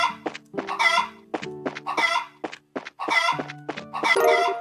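Chickens cluck repeatedly in Trails in the Sky, bursts of game-style fowl sounds with sharp, regular pulses over a steady tone, loud and alone with no talk.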